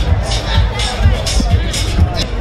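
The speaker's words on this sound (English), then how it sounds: "Look at this crowd. Still jam packed up here." Packed street crowd at the Cuba Dupa festival in Wellington, New Zealand, filling the air with a loud, continuous murmur of many voices, close by, with low thumps and scattered louder bursts of chatter.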